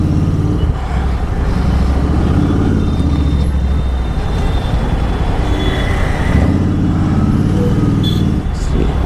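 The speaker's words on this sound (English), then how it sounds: "Traffic." Heavy road traffic at night during monsoon rain, with a dense, continuous rumble of cars, buses and trucks passing close by. A sharp air-brake hiss sounds near the end.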